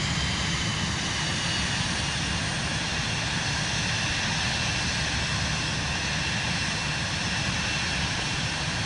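Aircraft engine in Microsoft Flight Simulator 2024 with the throttle opened, a steady loud droning roar that holds unbroken throughout.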